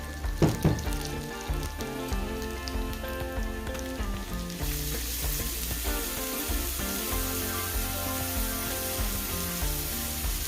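Garlic and onion sizzle in a hot pan, opening with a few clanks of stirring before a steady, close frying hiss that grows louder and fuller partway through.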